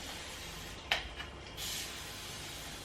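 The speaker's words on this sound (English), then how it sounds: "Spray bottle. Got some water in here." A spray bottle of water spritzes onto hair in two quick, quiet bursts: one short sharp puff, then a slightly longer mist a moment later, in an otherwise quiet room.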